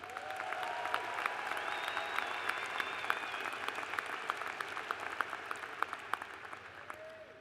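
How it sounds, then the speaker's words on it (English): Sustained applause from a large crowd honoring graduates at a spring commencement ceremony, steady dense clapping throughout with scattered sharper claps standing out. "Again, a round of applause for all of our graduates."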